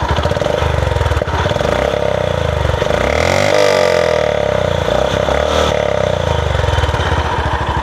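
A Honda CB 350 motorcycle engine is revved from idle, rising in pitch around the middle and falling back, loud and close, over a steady thumping idle.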